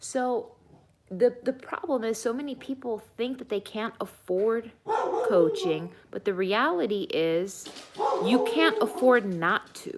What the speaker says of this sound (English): Sorry for the barking dog here